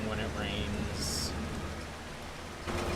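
Rain falling in the video game Farming Simulator 25, a steady hiss of rain on surfaces with a couple of brief higher chirping game sounds over it.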